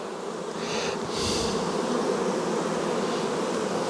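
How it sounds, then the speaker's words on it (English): Dense swarm of honey bees buzzing loudly and continuously as a beekeeper shakes them off a brood frame in a nuc hive, the hum swelling slightly partway through, no voices. "I'm going to shake the bees off of this"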